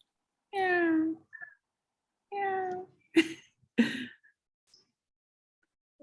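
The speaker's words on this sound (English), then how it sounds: "I think I have a few cats in my office." A cat meowing in an office: two drawn-out tonal meows followed by two shorter, harsher cries, close and clear against a silent background.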